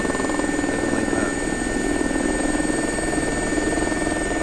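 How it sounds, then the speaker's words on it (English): Constant rotor beat and turbine whine of an air ambulance helicopter in the X-Plane 11 flight simulator, loud and unbroken, with a steady rhythmic chop underneath. "Yeah, the sound on this helicopter, dude. Way too good."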